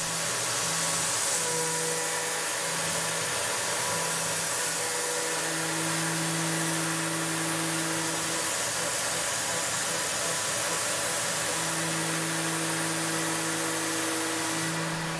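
A CNC mill cuts with a quarter inch flat end mill at 10,000 RPM on a 3D adaptive toolpath, giving a steady high whine with hissing spindle and coolant noise that rises and falls in pitch.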